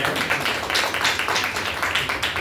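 Steady applause fills a hall at a second anniversary celebration, many hands clapping in a continuous dense wash with no pauses.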